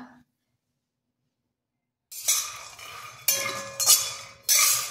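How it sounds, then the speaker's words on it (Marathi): Peanuts rattle and scrape against a metal pan as they roast over low heat, in bursts of clinking, close up, after about two seconds of silence. "मंद आचेवर शेंगदाणे भाजून घ्यायचे"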